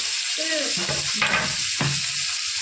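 Onions frying in hot oil in a home kitchen pan, a steady broadband sizzle throughout with brief stirring scrapes and faint voices in the background.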